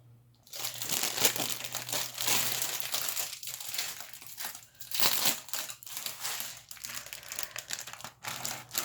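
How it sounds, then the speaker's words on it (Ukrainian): Plastic packaging from a Temu order crinkles and rustles continuously up close, with irregular crackling bursts as it is handled and pulled open. "Вибачайте за шуршіння, одразу кажу."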